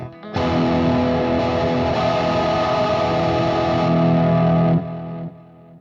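A sustained, heavily distorted electric guitar chord through a Fractal FM3 drive block rings out loud and steady for several seconds, then cuts off and decays.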